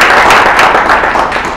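Loud, close audience applause for a speaker at a National Bar Association forum, thick continuous clapping that fades slightly toward the end.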